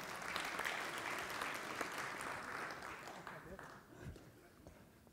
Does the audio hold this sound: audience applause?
yes